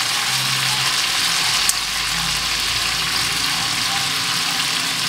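Soy sauce and oyster sauce sizzle steadily in a hot frying pan for Filipino humba, a loud continuous crackling hiss with a single sharp clink partway through and no talking.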